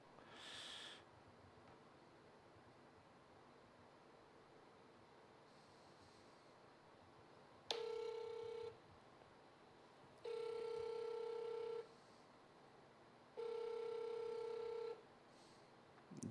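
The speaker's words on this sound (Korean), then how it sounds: "제가 박영수 특검한테 전화를 직접 한번 해보겠습니다." Repeated ringback tones while a phone call is placed, three long steady beeps spaced a couple of seconds apart over a quiet room, preceded by a short electronic chirp.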